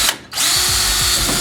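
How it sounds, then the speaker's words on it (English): A power drill bores a pilot hole through the side of a plastic feeder tank, a loud close whine that dips briefly at the start, then runs on steadily with the motor pitch wavering as the bit bites. "Now that my pilot hole's drilled,"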